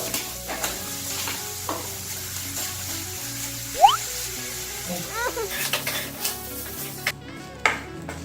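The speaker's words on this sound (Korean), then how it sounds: "식용유를 살짝만 둘러서 볶아줄게요. 양파랑 소세지를 그리고 밥을 넣어주세요." Onion, sausage and rice stir-frying in a little cooking oil make a close, steady sizzle, with frequent scraping and knocking of a spatula against the pan and a brief squeak midway.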